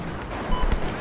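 Two quick gunshot cracks ring out during a Battlefield 4 beta Conquest match, short and sharp over a low battlefield rumble, with no talk.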